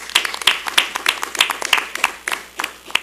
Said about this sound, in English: I think we should give our school board members here today a round of applause.